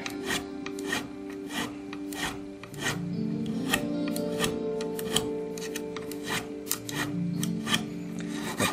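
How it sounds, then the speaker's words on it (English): A file rasping burrs off the steel fret ends on a guitar during a refret, a steady series of close, gritty strokes repeating alone without talk. "The fret end, it's got little burrs like, it has to be filed off."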